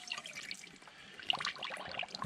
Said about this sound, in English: Then we'll get air bubbles popping up.